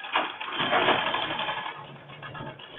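A sewing machine stitching a blouse runs steadily close by, a continuous buzzing, rattling whir that carries on without pause.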